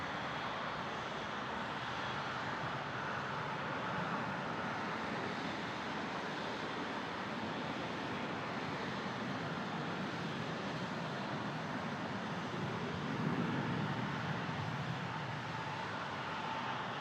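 A Boeing 777 jet at Toronto Pearson airport gives a distant, sustained, broadband engine roar that holds steady for many seconds with a slight swell near the end.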